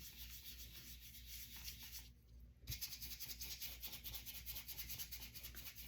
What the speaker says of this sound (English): So I'm scrubbing it on kind of with the dry parts of this brush.